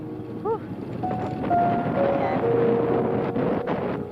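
Wind buffets the microphone outdoors in a steady, loud rumble that sweeps on without a break, with a few faint tones drifting through underneath.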